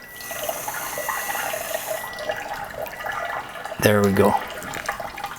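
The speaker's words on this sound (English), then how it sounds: "I'm also going to fill this with tap water" Tap water runs into a wash basin, a steady broadband rush throughout with a brief louder gush near the end, under a short spoken remark.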